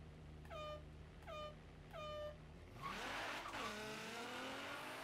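A 2017 Nissan GT-R in Forza Horizon 3 launching with wheelspin: three rising start horns, then the engine roars up in pitch as the tires spin and squeal, loud and close.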